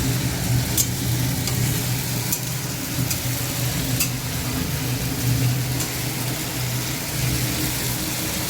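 Spices sizzling and frying in a pan, with steady close crackle and hiss throughout and a few sharp stirring clinks, alone without talk.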